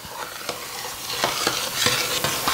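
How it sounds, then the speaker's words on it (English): Chocolate cake mixture with vanilla and melted butter stirred in a pan, a rhythmic series of close scraping strokes about twice a second over a soft sizzle, with no voices. "I'm going to give that a stir"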